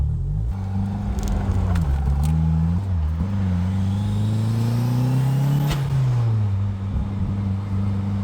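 A built turbocharged Mazda Miata engine pulls hard while driving, loud and close, its pitch climbing steadily through the revs before easing off, then picking up again.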